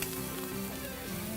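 Tomatoes browning in a pan with onion and garlic added give a soft, steady sizzle and crackle throughout, quiet and close, with no one talking.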